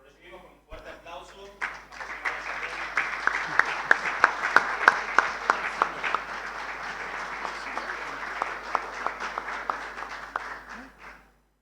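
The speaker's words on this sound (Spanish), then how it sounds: "Lo recibimos con un fuerte aplauso" An audience breaks into loud, sustained applause, many hands clapping together for several seconds before it tapers off and stops.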